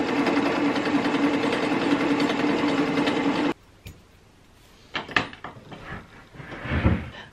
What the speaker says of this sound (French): Je vais venir coudre juste ici